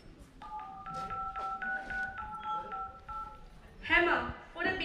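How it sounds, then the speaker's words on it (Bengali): A phone number is dialed as a stage drama sound effect, a run of about a dozen clear keypad tones in steady succession, followed by a brief burst of other sound at the end. "না, মাকে একবার ফোন করি।"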